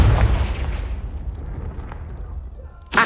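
A Confringo fire spell from Hogwarts Legacy explodes with a heavy, loud boom. The blast trails off into a rumbling decay lasting several seconds, and a sharp new burst cuts in at the very end.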